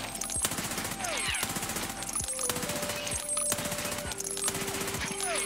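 P90 submachine gun firing in Escape from Tarkov, rapid steady bursts of automatic gunfire with brief pauses, loud and close, over a continuous game soundscape.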